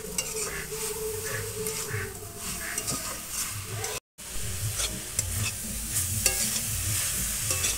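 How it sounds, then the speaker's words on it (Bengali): A spoon scrapes and stirs a coconut sweet mixture with a little water in a frying pan, giving repeated close scraping strokes over a soft sizzle, with a brief break in the middle. "নাড়তে হবে, না হলে নিচে বসে যাবে।"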